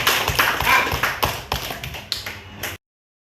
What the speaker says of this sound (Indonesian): Oke, berarti tepuk tangan buat kamu.